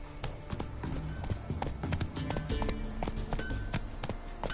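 Horse hooves clip-clop steadily at a trotting pace in The Witcher 3 on PS4, busy and close, mixed with game ambience and other effects.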